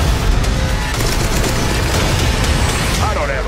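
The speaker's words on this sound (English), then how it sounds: "Gunfire!" Gunfire in a Transformers: The Last Knight movie trailer, a dense burst of rapid shots and booms over a loud cinematic mix, with a voice speaking near the end.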